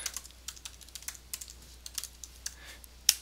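Keys clatter on a Mac keyboard as someone types a username and password, a quiet, irregular run of close taps ending with one sharper keystroke.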